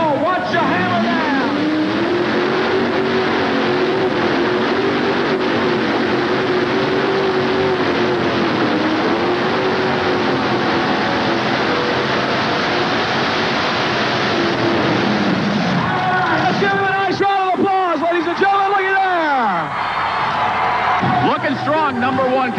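A modified tractor at a 1988 NFMS 5800 modified tractor pull in Louisville, Kentucky roars steadily at full throttle under a crowd and an announcer's voice, then breaks into rising, wavering engine surges near the end.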